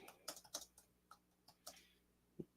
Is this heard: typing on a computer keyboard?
yes